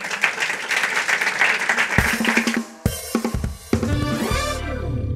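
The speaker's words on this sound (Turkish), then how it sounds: "Alkışlıyoruz Meriç'i" Applause from a talk-show studio audience greeting a guest, clapping for the first two seconds and then giving way to bright musical stings and chords that carry on to the end.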